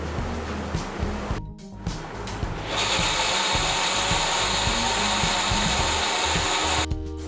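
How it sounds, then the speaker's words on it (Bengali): A kitchen mixer grinder blends wheat grains with half a cup of water, first rattling and knocking, then settling into a loud, steady, high motor whine that runs for several seconds before stopping. "গমটাকে মিক্সিতে ব্লেন্ড করে নেব 1/2 কাপ জল দিয়ে"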